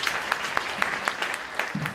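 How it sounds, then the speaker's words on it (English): An audience at a public defender program launch event gives a short burst of applause, a handful of distinct claps in a quick, fairly even rhythm over about two seconds. "I want to give you a round of applause because it's very important to acknowledge volunteers."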